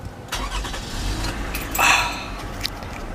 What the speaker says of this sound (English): let's start the engine up